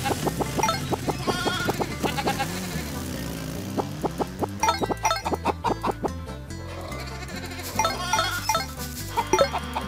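Sheep in the farming video game Meine kleine Farm 4 bleat repeatedly over cheerful background game music, several clear bleats in succession with small clinking effects.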